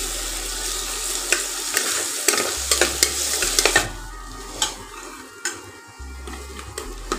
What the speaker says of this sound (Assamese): এইখিনি মই খুব ধুনীয়াকৈ ভাজি ল'ম, যাতে ইয়াৰ কেঁচা কেঁচা গোন্ধটো একেবাৰে নোহোৱা হৈ যায়